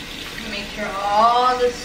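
Tap water runs steadily while soap is rinsed out of a wig, a short, close splashing stream that swells slightly toward the end.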